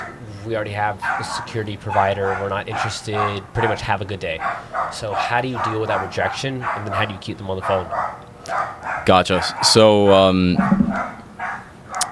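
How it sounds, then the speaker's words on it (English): A dog barks and whimpers intermittently in the background beneath continuous conversation between people on a call. "Sorry about the dog in the background"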